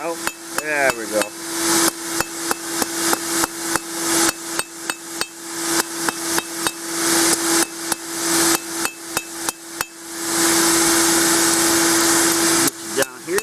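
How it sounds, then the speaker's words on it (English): A smith hammers hot steel on an anvil while forging a feasting spoon, with loud, close, rapid metallic blows in uneven bursts that ring sharply, plus a brief pause and a steady hum behind. "Hammer those out."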